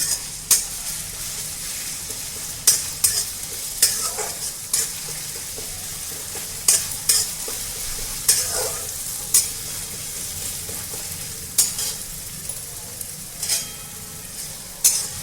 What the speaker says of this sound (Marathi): मिरची चांगली परतून घ्यायची आहे